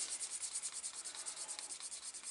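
A dyed leather edge is burnished with rapid back-and-forth rubbing, a close, steady, hissing friction that pulses several times per second without pause.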